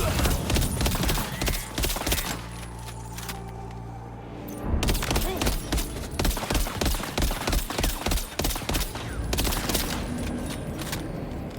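Rapid gunfire in the video game Death Stranding 2 rattles in dense bursts, loud and near, with a brief lull before the shooting resumes and continues to the end.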